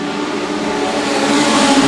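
Legend race cars roar along a track during a circuit race, a dense, steady engine drone that swells slightly as the field passes close by, with no voices.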